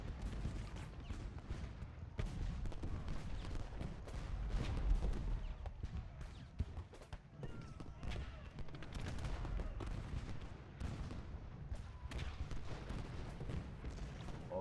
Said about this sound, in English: We're getting a little counter battery fire from these Watson's guns.